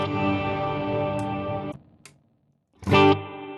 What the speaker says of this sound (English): And there's my spring reverb.